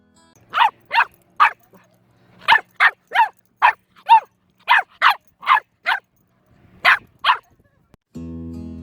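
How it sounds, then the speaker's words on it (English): Pet dog Phoebe barks in a rhythmic sequence like a song, about fifteen sharp, close barks in loose groups with short pauses, and a brief tonal sound at the end. "And now a song from Frenchie's dog Phoebe."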